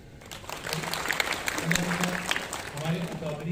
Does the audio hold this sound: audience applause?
yes